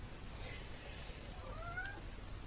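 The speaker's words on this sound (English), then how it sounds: "you can see the orange tabby cat" An orange tabby cat gives a couple of faint, thin meows over a quiet indoor background, one short and one drawn out with a rising then falling pitch.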